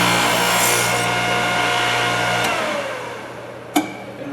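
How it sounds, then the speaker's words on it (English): A Thorvie AV-40 sharpening machine test-grinds a carbide router bit, its motor and dust collector making a loud, steady whirring hum that winds down, followed by a single sharp click near the end. "So now I'll turn my motor on, turn my dust collector on, and I'll just do a test grind to see how I'm lined up."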